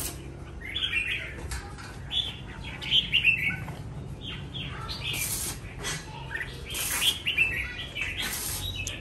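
Red-whiskered bulbuls sing at a bird competition venue, several birds trading bright, warbling chirps and whistled phrases almost continuously, loud and close, with a few wing flutters and no talking.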